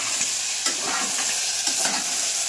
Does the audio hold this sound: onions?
yes